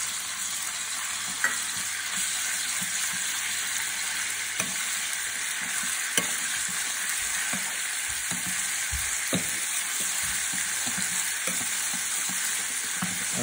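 Ginger and garlic sauteing in a hot pan give a continuous, even sizzle with faint occasional stirring clicks, close and steady throughout with no voices.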